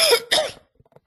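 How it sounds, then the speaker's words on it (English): Two sharp coughs in quick succession from a person speaking indoors, close and loud, followed by a short quiet tail with faint small noises. "I just got a bit of a cough"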